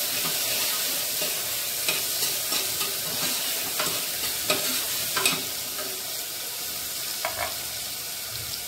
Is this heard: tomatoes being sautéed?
yes